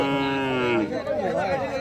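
A young bull calf lows at a busy cattle market, one drawn-out moo up close, followed by voices and crowd chatter.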